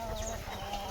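Chickens cluck softly on a farm crowded with several hundred birds, a faint continuous flock murmur with no voices over it.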